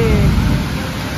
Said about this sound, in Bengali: কি জোরে বৃষ্টি এসছে